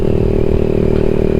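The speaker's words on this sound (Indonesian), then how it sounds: "Jadi masih agak keras suaranya, meskipun di mesin standar ya." Yamaha MX King 150 motorcycle with a standard engine and a Bpro racing exhaust, idling loud and close with a steady throbbing drone, brief and uninterrupted.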